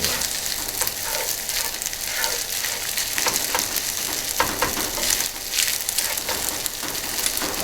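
Rice stir-fried in a frying pan, a dense continuous sizzle with scraping and tossing bursts, loud and close, with no voices.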